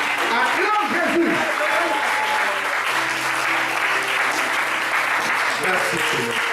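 A church congregation applauds the Lord in a French-language service, steady loud clapping from many hands filling the whole stretch while a voice speaks and musical tones carry on underneath.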